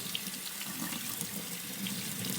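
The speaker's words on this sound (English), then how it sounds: "And then I'm going to rinse the beans." Running tap water pours steadily over beans being rinsed, a continuous close hiss and splash of faucet flow with no talking.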